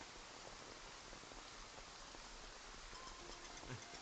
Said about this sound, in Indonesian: Hujan deras begini